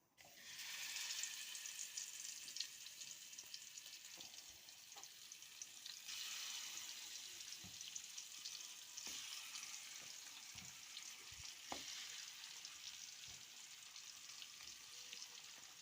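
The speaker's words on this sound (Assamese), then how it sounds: "বাকিখিনি ভাজি থৈ দিম মই" Fish pieces fry in hot oil, a continuous bright sizzle and crackle with scattered pops and light clicks from the pan, steady and close throughout.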